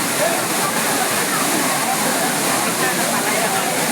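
Courtallam waterfall pours heavily, a loud, unbroken roar of falling and splashing water that fills the whole scene at close range.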